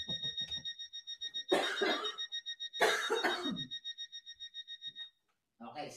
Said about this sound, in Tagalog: bakit naka-alarm ang hotel